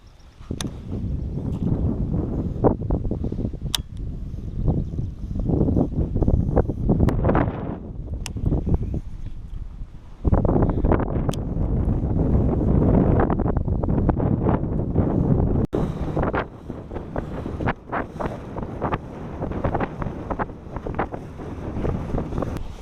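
Wind buffets the microphone while fishing for bass from a boat on open water, a loud, gusty rumble that rises and falls throughout, with occasional sharp knocks.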